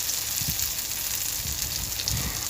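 Chana dal (lentil) fritters frying in mustard oil, a steady close-up sizzle and crackle with soft bubbling pops throughout, no voices.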